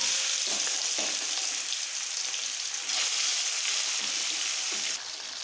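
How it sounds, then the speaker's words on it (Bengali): Tengra fish dropped one by one into hot oil in a kadai, producing a loud, dense, continuous sizzle and crackle close by, with a slight drop in intensity near the end and no talking. "কড়াই গরম হয়ে গেছে, এবার এর মধ্যে আমি মাছগুলো একে একে ভেজে নেব।"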